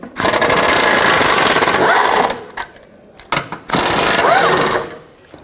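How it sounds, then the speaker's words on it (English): Power tool working loose the 15mm engine mount bolts on a 2009-17 Chevy Traverse, a loud continuous mechanical whir for about two seconds, brief pauses, then another sustained burst close by. "So start by taking these 2 bolts out. Use a 15mm socket."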